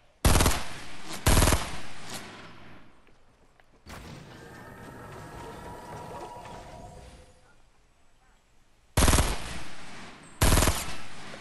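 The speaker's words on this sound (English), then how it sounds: "You're shooting at me too." Loud bursts of gunfire in the video game Fortnite: a couple of sharp volleys, a quieter stretch of distant in-game clatter, then two more heavy bursts close by.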